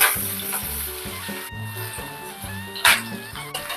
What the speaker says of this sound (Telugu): చూడండి, ఉల్లిపాయలు ఇలాగే వేగిపోయాయి కదా